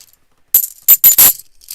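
Clad half dollar coins clink together in a few short, bright metallic bursts after a brief silence, close and fairly loud, with no talking.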